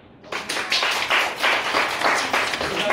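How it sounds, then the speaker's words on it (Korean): Applause at a church Sunday school award ceremony after a prize presentation: a crowd clapping in a continuous, fairly loud burst that holds steady throughout. "박수"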